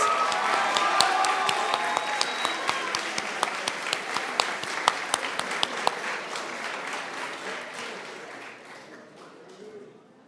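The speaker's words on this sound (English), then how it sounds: "let's give a round of applause to all of our nominees" Audience at a school stepping-up ceremony applauding the nominees: dense clapping with some sharp individual claps standing out, gradually thinning and fading toward the end.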